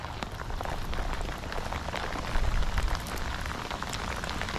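Heavy rain pours down on a lake, a dense, steady hiss of drops drumming on water and surfaces close by, with no voices.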